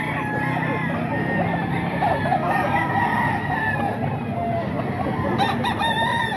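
A Lemon Sweater gamefowl rooster crows among other chickens, its drawn-out calls rising over a busy background of clucking fowl, with faint talk in the mix.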